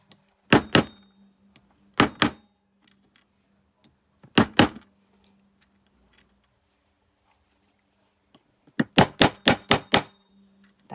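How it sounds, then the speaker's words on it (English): A wooden punch strikes a small silver shape to bend it into form, sounding as sharp knocks in quick pairs near the start, a lone pair midway, then a fast run of five or six close, crisp blows at the end, with quiet gaps between. "with a wooden punch I'm just hitting it sort of on the side where, and then tilting it where I want it to move"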